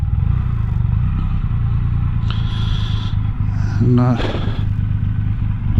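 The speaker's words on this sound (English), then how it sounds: "A very nice bike." Triumph Rocket 3 motorcycle engine idling with a steady low rumble throughout, a brief rev swell near the end, while someone speaks nearby.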